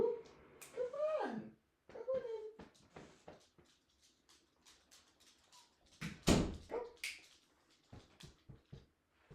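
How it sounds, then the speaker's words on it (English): A dog indoors barks and whimpers in short bursts, with a few sharp yelps and door-like knocks, while a person talks quietly nearby. "Sorry, that was my dog."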